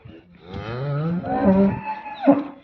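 A Holstein Friesian cow at a cattle sale in a Punjab village lets out one long, loud, close moo that rises and wavers before breaking off with a short final grunt.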